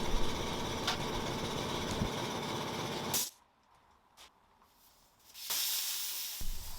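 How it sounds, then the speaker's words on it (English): Air machine inflating a car tire on a 2ZZ-swapped MR2 Spyder with Yokohama A052 tires, a loud steady hiss that cuts off into quiet before resuming. "So now, inflating the tire, put the valve in, check the tire pressure"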